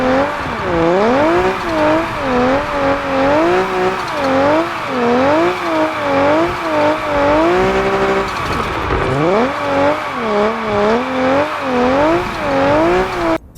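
A tuned 1JZ engine in a drift car in the Car Parking Multiplayer 2 video game revs up and down in repeated waves, with faint tire squeal under it and a short drop in power about two-thirds through.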